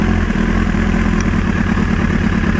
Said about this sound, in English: So you plug it back in, you can hear it speed back up.